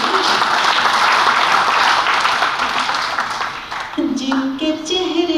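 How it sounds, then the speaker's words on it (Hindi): At a Hindi poetry recital, an audience claps loudly and steadily, the applause thinning out after a few seconds as a voice begins speaking over the last of it. "एक बार तालियों से मुझे आदेशित करें।"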